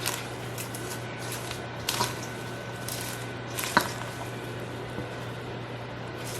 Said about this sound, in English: Just toss it into that caramel mixture like we're doing now.